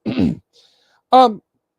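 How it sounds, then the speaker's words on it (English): A man's cough during a talk on tabletop exercises: two short bursts, a rough voiced one, then a brief pause and a louder, harsher, more tonal one, close to the microphone with no talk around them. "I do apologize again for my cough."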